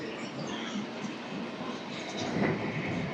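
A Chennai local train rumbles through St. Thomas Mount station with a broad, steady roar of wheels and carriages that swells slightly toward the end, heard from nearby.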